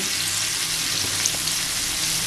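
Prawns fry in oil on a flat tawa over low gas for a crispy restaurant-style kolambi fry, giving a steady, close, even sizzle with no voices.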